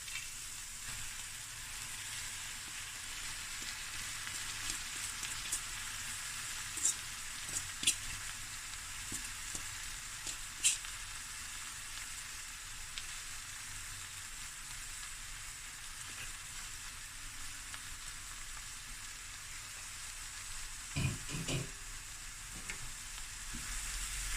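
Lentils and potatoes cook in a pot for a meat-free curry with a quiet, steady sizzle. A few soft stirring knocks and scrapes come through close by, and there is no talking.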